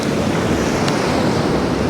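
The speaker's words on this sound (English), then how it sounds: "you can see how the waves come up and just kind of bring them in and out" Ocean waves washing onto a Florida beach in winter, a loud, steady roar of surf with wind noise buffeting the microphone and no talking.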